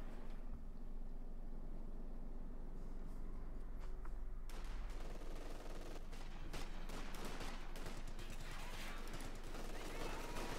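Rifle and machine gun fire from a Company of Heroes 2 battle between Wehrmacht and US Forces with paratroopers and riflemen, dense rattling volleys building into sustained fire under a commentator's voice.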